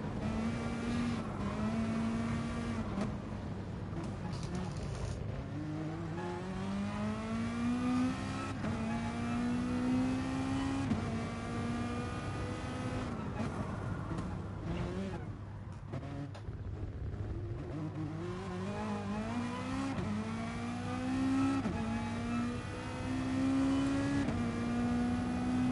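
Race car engine in a racing video game, a Mazda Atenza, revving up and down steadily as it brakes and accelerates through turns, continuous and loud throughout with rising and falling engine pitch.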